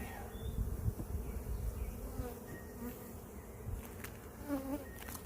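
Honey bees buzz around an open beehive, a dense close swarm drone with individual bees whining past, steady and moderately loud throughout.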